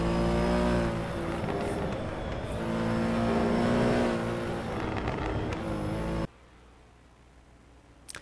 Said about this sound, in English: You can hear the crackling sound.